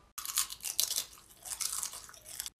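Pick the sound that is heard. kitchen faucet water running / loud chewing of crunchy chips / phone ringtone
loud chewing of crunchy chips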